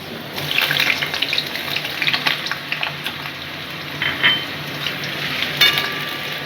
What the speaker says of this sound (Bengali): এখন আমি একটা মূলো ঘন্টের জন্য একটা ছোট আলু কেটে নিয়েছি ছোট ছোট টুকরো করে এখন এটা আমি একটু ভেজে দিচ্ছি